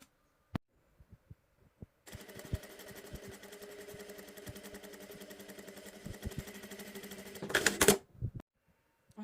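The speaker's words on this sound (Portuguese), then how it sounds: "Eu prefiro passar a costura reta aqui primeiro, na máquina reta, né?" Straight-stitch sewing machine running steadily for about six seconds as it sews a blouse, a dense mechanical whir with rapid needle clatter that briefly speeds up near the end, preceded by a few quiet handling clicks.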